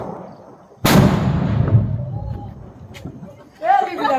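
A firecracker bomb bursts during Diwali celebrations with one sudden loud, close boom that rumbles and decays over a couple of seconds, followed by a faint crack and then people talking.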